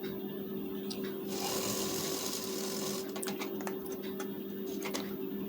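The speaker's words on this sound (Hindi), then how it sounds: "बूट के एक पैर का दबाव लेकर सिलाई चलाएंगे।" An electric sewing machine stitching a hook strip on a lined blouse hums steadily throughout, with a louder burst of fast needle chatter in the middle and clicks near the end, heard close and continuous.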